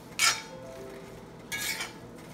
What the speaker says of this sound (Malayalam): അപ്പോൾ ഇനി ആ മുട്ട ഒന്ന് വെന്ത് വരുന്നത് വരെ നന്നായിട്ടൊന്ന് ഇളക്കി കൊടുക്കാം